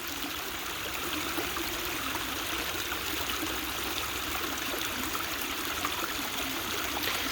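A steady stream of water flows and trickles over rocks, a continuous close rushing wash with no voices and no pauses throughout.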